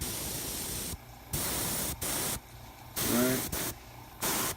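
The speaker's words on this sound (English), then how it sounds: "a lot of it's airbrushing. Come in, add a little more green." Airbrush spraying green paint onto a miniature cultist figure, heard as several bursts of steady close hiss that start and stop, separated by quiet pauses, with a brief spoken word near the end.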